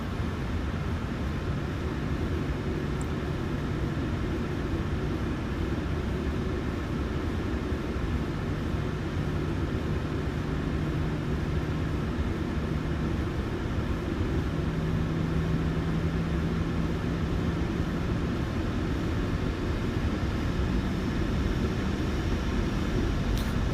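Small airplane taxiing with its engine running: a steady, close, droning engine note with faint shifts in pitch holds without a break and with no talk.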